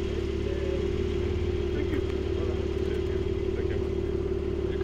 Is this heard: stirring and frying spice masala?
no